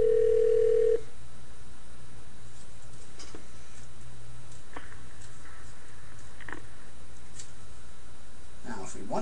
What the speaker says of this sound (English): the phone itself goes off hook on the speakerphone and it dials this number